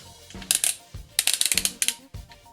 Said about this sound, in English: Ratchets all around.